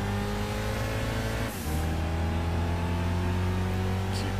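A race car in Gran Turismo 6 accelerates loudly on a licence test, its engine note holding high and strong, dipping briefly during a gear change, then climbing steadily again with no speech.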